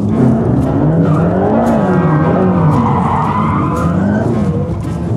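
Mercedes camera car on wide 335 tires spinning its wheels up through fourth or fifth gear, a loud continuous engine roar with wavering tire squeal and skidding throughout.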